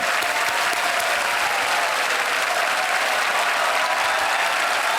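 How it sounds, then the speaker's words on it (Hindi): Continuous studio audience clapping on the Kaun Banega Crorepati TV quiz show, a dense even wash of applause that holds steady for the full few seconds. "तालियां बज जाए इनके लिए।"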